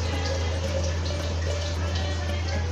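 Water runs steadily from a press-button dispenser in a home kitchen, a continuous close hiss with a low hum underneath, no talking.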